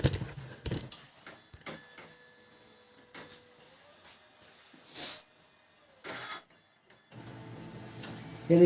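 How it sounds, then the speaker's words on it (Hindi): A Pantum laser printer warms up after a fuser assembly repair, giving scattered clicks, a soft mechanical whir with a rising tone, and several short motor bursts separated by quiet gaps. "ये देखिए हमारा प्रिंटर यहाँ पर रेडी हो रहा है।"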